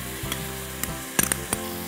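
Carrots and red capsicum stir-fry over high heat: a steady close sizzle with sharp utensil clacks against the pan at irregular intervals.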